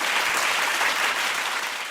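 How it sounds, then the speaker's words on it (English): Sustained applause from an audience after a panel discussion at a Federal Budget 2023-24 livestream event, steady dense clapping throughout at moderate loudness with no talk. "Can we give our panel a round of applause?"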